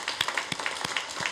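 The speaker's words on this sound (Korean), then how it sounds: "축하의 박수 한번 보내주세요" A church congregation claps together in celebration, a short burst of overlapping handclaps with a few sharper individual claps standing out, fairly close and steady.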